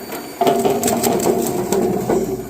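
A machine breaking garlic bulbs into cloves makes a steady mechanical whirring with irregular crunching and rattling throughout, close and fairly loud.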